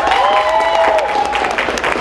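An audience claps and cheers in support of Occupy Calgary, a dense burst of applause mixed with whoops and a voice carrying over the crowd noise.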